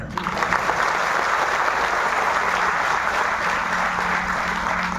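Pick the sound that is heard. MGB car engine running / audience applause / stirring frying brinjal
audience applause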